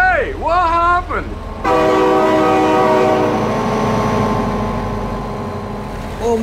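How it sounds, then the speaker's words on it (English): A train horn in the BeamNG.drive driving game sounds one long, loud, sustained blast over the rumble of an approaching train, with a voice shouting briefly at the start and end. "Oh my God, train!"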